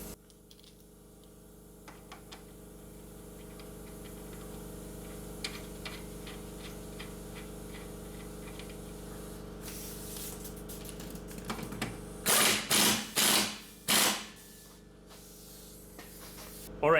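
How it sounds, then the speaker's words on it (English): A ratchet tightens the bottom bolt of a rear strut on a Hyundai Sonata, with faint ticking through most of the stretch before a few loud, close bursts of ratcheting near the end. "now I'm gonna tighten the bottom bolt for the strut"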